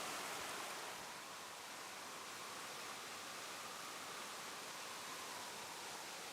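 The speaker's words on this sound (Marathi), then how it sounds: "उंच कड्यांवरून कोसळणारे हे फेसाळते धबधबे" Foaming waterfalls cascading from high cliffs in the Kolhapur forest give a steady, broad rushing roar that holds evenly throughout, with no voices.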